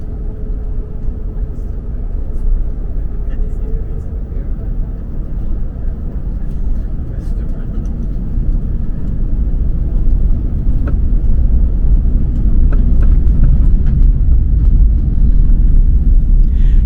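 Cabin rumble inside an Asiana Airbus A380, nine years old, during takeoff, a heavy continuous low roar that builds steadily in strength, with faint rattles and clicks above it.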